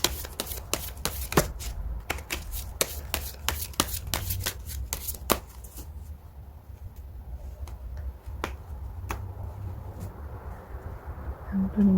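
Tarot cards are shuffled by hand in a rapid run of crisp, close snapping flicks, which thin out into a few scattered taps against a quiet room.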